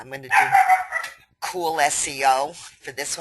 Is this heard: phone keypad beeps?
no